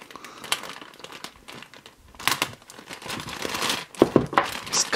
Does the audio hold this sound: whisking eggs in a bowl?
no